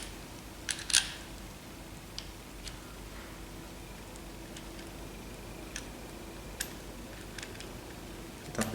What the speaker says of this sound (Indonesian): Di sini kita sudah power handle, kita kencangkan di sini.